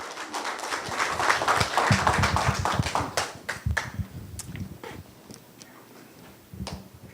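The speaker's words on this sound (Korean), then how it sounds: "여러분 박수 주십시오" Audience applause at a Korean forum gathering, a dense burst of many hands clapping that thins out into scattered, individual claps before a few final ones.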